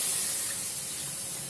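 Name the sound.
water sizzling as it is poured into a hot wok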